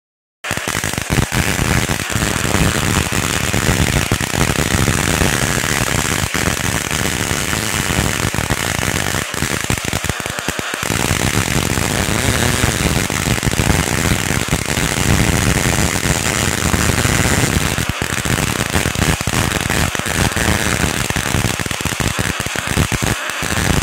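Loud, continuous buzzing crackle of a high-voltage plasma arc jumping between two capacitors, giving off an ion wind, steady for the whole stretch with a few brief breaks and sharp snapping bursts.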